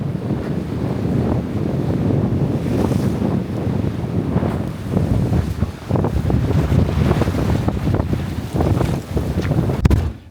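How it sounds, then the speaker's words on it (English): Strong gusty wind at a wet, stormy English seaside harbour, buffeting the microphone in loud rumbling bursts with surf and waves washing underneath, continuous and close. "It's windy and wet."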